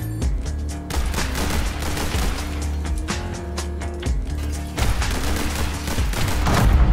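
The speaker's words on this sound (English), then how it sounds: "That was a fucking rifle." Rifle gunfire in The Hong Kong Massacre, a dense run of loud repeated shots and bursts across the whole stretch, close and punchy over game background sound.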